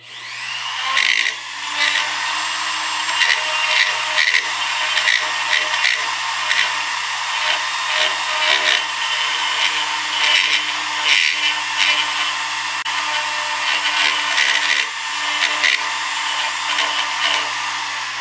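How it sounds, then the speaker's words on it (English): A power tool grinds excess wood from an elaborate turned finial, giving a loud, continuous high-pitched whir with rapid rasping bursts as the bit bites and jumps in the wood. "we're just going to grind this out just join the holes and grind and get rid of all of this excess wood"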